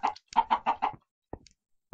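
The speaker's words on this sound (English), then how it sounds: "Come here, chickens." Minecraft chickens cluck in a quick burst of five or six clipped notes, then a couple of sparse, quieter clucks after a pause. Close and clear, with no talking over them.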